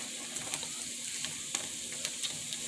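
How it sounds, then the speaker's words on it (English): Caribbean-style breakfast food frying in a pan on a stove turned low, with a steady close sizzle and scattered crackles and pops throughout. "You take time to fry it more than get it burned."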